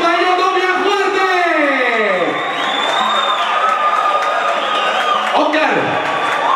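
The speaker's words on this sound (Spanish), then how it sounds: "Un aplauso para ellos dos bien fuerte." Crowd cheering and clapping at a Halloween costume party, steady and loud for several seconds, with rising shouts and whoops layered over the applause.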